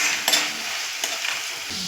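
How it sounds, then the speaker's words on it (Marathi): Coconut, green chili and ginger paste sizzles with roasted tomato in a hot pan as a spoon stirs and scrapes through it, a close, steady frying hiss broken by a few sharp scraping strokes. "आता आपण हे खोबरं, मिरची आणि आलं याचं वाटण घालून परतून घेऊयात."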